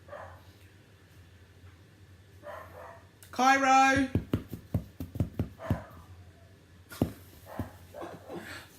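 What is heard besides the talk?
dogs barking and whimpering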